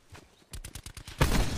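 Gunfire in Call of Duty Black Ops 4 Blackout, a rapid burst of roughly seven evenly spaced shots followed by a louder, denser blast, all close and sharp.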